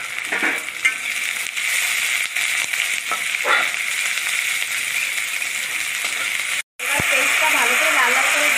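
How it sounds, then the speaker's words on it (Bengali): Finely chopped onions frying in oil until reddish-brown hiss and crackle continuously at close range, broken by a few soft scrapes and a brief drop-out near the end, with faint traces of a voice in the background. "পেঁয়াজ দুটো দিয়ে ভালো করে লাল লাল করে ভেজে নিতে হবে।"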